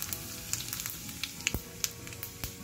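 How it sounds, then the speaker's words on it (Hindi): Cumin seeds sizzle and crackle in hot oil while a tempering for dhokla is made, giving a steady quiet frying hiss with scattered sharp pops and spits. "तेल यहाँ पे मैंने गरम कर लिया है। अब इसमें हम डालेंगे 1 टीस्पून जीरा"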